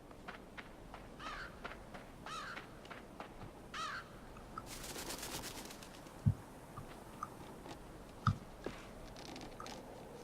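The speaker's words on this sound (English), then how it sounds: "So with the creaking there and the crows" Crows caw in the eerie forest of the video game Limbo, sharp calls repeating over a low ambient drone, with a burst of creaking noise partway through and two distinct thuds.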